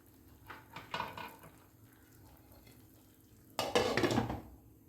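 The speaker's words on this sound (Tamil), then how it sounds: "லைட்டாக மட்டும் நம்ம கிளறி விட்டுக்கலாம்." A spoon scrapes and clatters against a pan while Kerala aviyal mixed vegetables are lightly stirred, with a faint sizzle. There are two separate, close bouts of stirring with a quiet pause between them and no talking.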